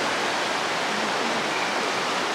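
The Muddy Fork stream on the Pacific Crest Trail rushes in a dense, continuous hiss of flowing water, close and fairly loud, unbroken throughout and without any talking.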